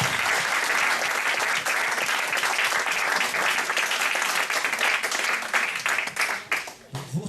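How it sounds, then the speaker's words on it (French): Loud, dense audience applause closing a French science lecture on cells, continuous clapping that thins and fades toward the end. "qu'on applaudit encore très fort"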